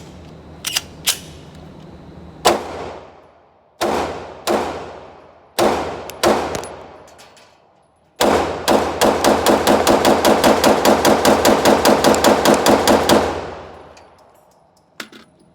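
Gunshots from a freshly built 80pbuilder Glock 17-style pistol: several sharp, loud single reports with ringing decays, spaced by pauses, then a fast, continuous string of shots lasting about five seconds before fading out.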